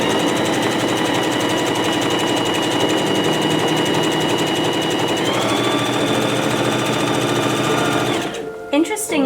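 Sewing machine running continuously with the needle lowered, a loud steady close whirr and rattle that stops abruptly near the end, with a voice speaking over it.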